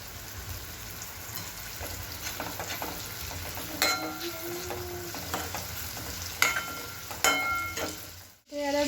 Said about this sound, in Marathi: आपलं आलं लसूण हे छान फ्राय झाले